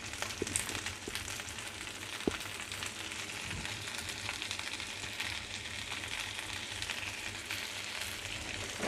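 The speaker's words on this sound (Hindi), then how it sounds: "और भिंडियों को अब हम फ्राई करेंगे।" Okra frying in a pan with a squeeze of lemon juice gives a steady, dense sizzle that runs unbroken and fairly loud throughout, with faint scraping taps of stirring now and then and no voices.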